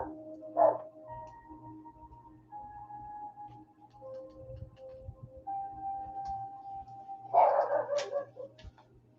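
A dog barks in a home during a live podcast: one sharp, close bark near the start and a louder cluster of barks near the end, with a low steady hum between them.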